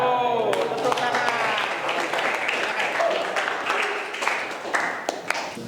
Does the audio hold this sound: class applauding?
yes